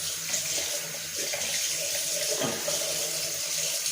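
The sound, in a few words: rinsing a clogged Gillette Mach 3 razor under the tap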